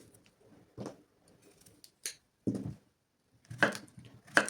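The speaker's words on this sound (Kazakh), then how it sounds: "Енді огурцымызды турап аламыз." A knife chopping cucumber for a Korean-style salad with meat, scattered sharp cuts on a board, a few single chops then a quicker cluster of close, crisp knocks in a quiet room.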